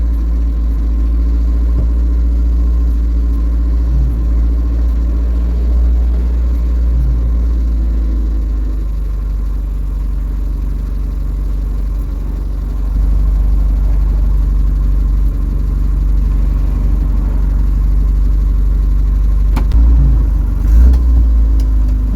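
Engine of a retro Ford garage find, under rebuild and low on fuel, running steadily in a loud, close, continuous low rumble with slight shifts in tone and a few brief knocks near the end.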